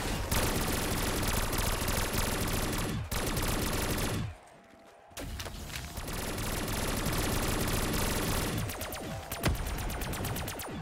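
Sustained rapid automatic gunfire in Black Ops 3 custom zombies, loud and near, long bursts broken by a short pause before firing resumes.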